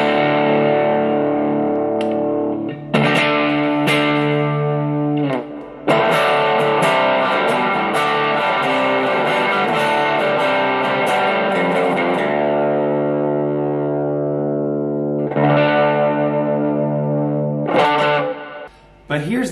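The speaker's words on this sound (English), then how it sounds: "I put on an overdrive, like a Mojo overdrive, and you can see the guitar is going to be really aggressive now" A Squier Classic Vibe Jazzmaster electric guitar played through a Mojo overdrive pedal, with aggressive distorted chords and sustained notes ringing out alone, broken by a few short pauses between strummed phrases.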